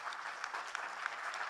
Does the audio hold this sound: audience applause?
yes